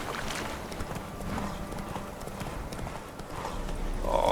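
Roach, Geralt's horse in The Witcher 3, trots along with steady clip-clopping hooves in a continuous rhythm, moderately loud over a game ambience bed.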